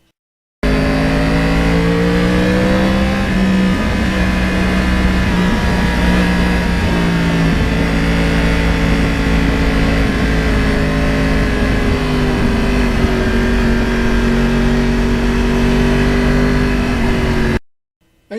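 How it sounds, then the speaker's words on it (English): A Yamaha R1 crossplane motorcycle engine drones continuously while riding along roads near the Hudson River in lower New York State, loud and steady with gradual shifts in pitch, no talk. "the old R1 just loves cruising up and down these roads"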